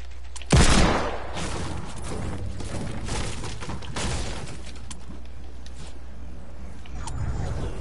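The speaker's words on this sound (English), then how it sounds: "now let me shoot myself out of cannon" A single loud boom of cannon fire opens, followed by a lingering rumble and scattered thumps from a game scene.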